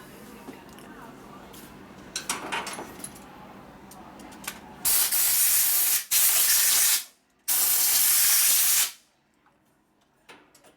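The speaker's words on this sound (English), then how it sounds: "Going with the brake parts cleaner." Brake parts cleaner sprays onto parts from a 1988 Harley-Davidson FXR in three loud, close hissing bursts, the last one the longest, after some clinking of metal parts and faint background talk.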